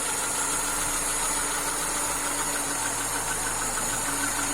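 A car engine with a rebuilt Solex 21051 carburetor idles steadily, a continuous even hum with a faint rhythmic knock running unchanged throughout, close and alone with no talking.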